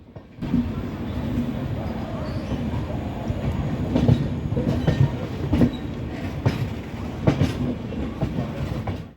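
The Howrah–Puri Superfast Express rumbles steadily along with rhythmic clattering from the wheels on the rails, heard from inside a carriage, loud and continuous.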